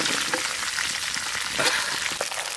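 Ginger garlic paste frying in hot oil for chicken in a village kitchen, a steady close sizzle and hiss throughout with faint stirring, no talk.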